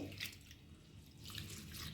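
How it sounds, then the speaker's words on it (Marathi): Lentils and rice are swished and rubbed by hand in a bowl of water, giving soft, faint sloshing and trickling with no talk. "तुम्ही असं हाताने छान हे करून डाळ आणि तांदूळ धुवून घेऊया"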